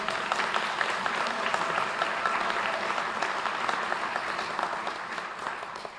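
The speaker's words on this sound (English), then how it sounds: "give them a round of applause before I introduce them" An audience at a Democratic mayoral candidates forum applauds the panelists with sustained, dense clapping that stays loud and even throughout, with faint crowd murmur underneath.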